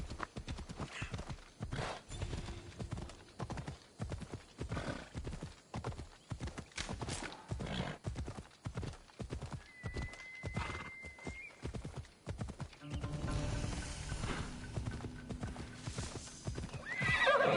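A horse in Assassin's Creed Odyssey gallops with rapid rhythmic hoof clip-clops, then lets out a neigh, followed by louder stamping and snorting at the end.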